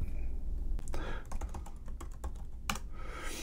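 Quick clicks on a computer keyboard as a password is typed, a string of close, crisp keystrokes in an uneven burst over a few seconds.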